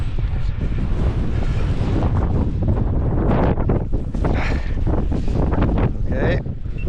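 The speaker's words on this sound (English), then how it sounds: "So much wind." Strong wind roars into the onboard camera of an E-flite Extra 300 RC plane flying in rain and windy weather, a loud, constant buffeting rush with no let-up.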